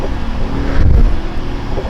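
Chiptuned Mercedes-AMG GT 43 tuned to 470 PS and 620 Nm, pulling hard in fifth gear: a loud, steady low engine roar that swells briefly near the middle, heard from close by inside the car.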